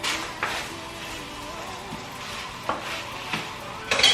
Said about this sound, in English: I am going to give this a little stir to make sure nothing's burning at the bottom